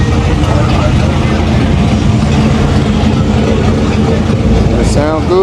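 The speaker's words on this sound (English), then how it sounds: "Hear that turbo spooling up on this truck." A truck's turbo spooling up at a street car show block party, a loud continuous engine roar with a rising whistle near the end, heard close and under the noise of the crowd.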